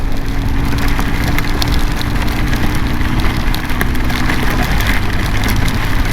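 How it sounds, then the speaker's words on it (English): Drenching rain pounds down during a motorcycle ride just after a burst of hail, a loud, dense, unbroken roar of wind and water with a low engine rumble beneath it. "Now it's just drenching rain."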